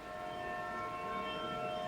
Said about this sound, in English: The episode ends with the haunting horn of a train.